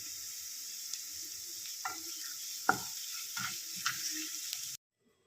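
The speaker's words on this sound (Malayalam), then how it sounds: "ഇനി അതിലേക്ക് അരിഞ്ഞു വെച്ചേക്കുന്ന ചെറിയ ഉള്ളി ഇട്ട് കൊടുക്കാം" Chopped small onions with salt sautéing in a pan for a spring onion stalk thoran, a steady soft sizzle with occasional scrapes and taps from a stirring spoon, then abrupt silence.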